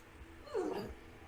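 A dog gives one short, faint whimper, a brief rising then falling whine heard alone against quiet room background.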